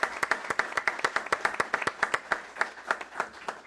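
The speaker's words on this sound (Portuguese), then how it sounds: "Uma salva de palmas, que fica mais curto." A small group applauds at a 62nd anniversary celebration for Brazil's space research institute INPE, with rhythmic, fairly even claps close by that run steadily throughout.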